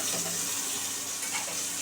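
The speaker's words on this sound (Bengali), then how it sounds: "এরপরে আমরা দিয়ে দিব আরেকটু পরিমাণ মতো তেল" Oil sizzling steadily in a pan while cooking khichuri, a continuous bright hiss with faint stirring, close and even throughout with no talk.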